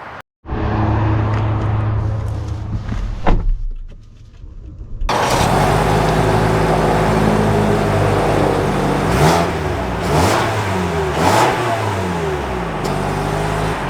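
A 2024 Toyota RAV4 TRD pulls away, its engine droning loudly from inside the cabin. The revs rise and fall in sweeping surges as the car gathers speed, after a short quieter idle at the start.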